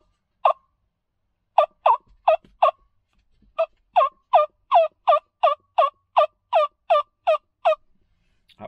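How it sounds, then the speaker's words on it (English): A hunter works a turkey tube call outdoors, producing a run of sharp, evenly spaced yelps: a few single notes first, then a quick rhythmic series of about a dozen loud, clear calls close by. "I've been working with my tube call too."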